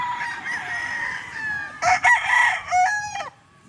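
Boston Millionaire gamecock rooster crowing, one full cock-a-doodle-doo rising and breaking into several strained bursts, close and clear over a quiet yard, with no talk.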